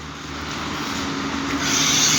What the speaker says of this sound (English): So here we are, my train.